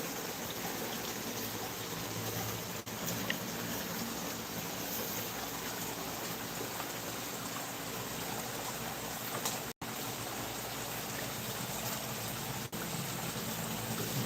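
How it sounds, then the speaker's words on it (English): Creek water running down into a pond garden and splitting around an obstacle, a steady, fairly loud rushing and gurgling wash that carries on without a break and with no voices. "So that water comes down, it hits right through that, splits it off, goes around."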